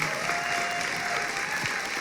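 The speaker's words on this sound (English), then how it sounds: "round of applause." Steady audience applause at a civic competition event, a brief continuous burst of many hands clapping at an even level.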